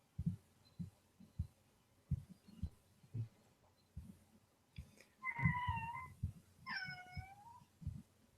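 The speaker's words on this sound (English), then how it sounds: "Is that your cat again?" A male cat gives two loud meows close by, one long and wavering, the other shorter and rising, after several seconds of soft thumps and handling noises.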